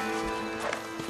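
Horse hooves from the Red Dead Redemption video game, a few soft clip-clop steps buried in a dense mix of game music and ambience, brief and not prominent.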